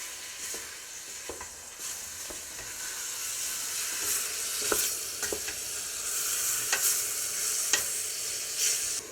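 Chopped onions fry in a soup pan with a continuous close sizzle. A spoon scrapes and clicks now and then as they are stirred. No one speaks.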